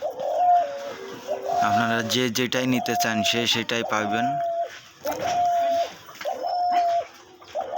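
A spotted dove, a trained decoy sold for hunting, coos repeatedly in short rhythmic phrases close by, with someone talking over much of it.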